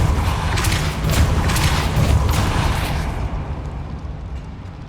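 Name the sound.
Confringo explosive spell in video game Hogwarts Legacy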